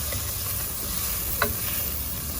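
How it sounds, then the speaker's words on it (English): Onions, garlic and parsley frying in butter give off a steady, close sizzle, broken once by a brief scrape as they are stirred. "just going to give it a little stir so the onion starts to look a little bit glassy"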